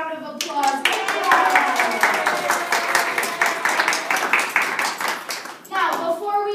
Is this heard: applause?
yes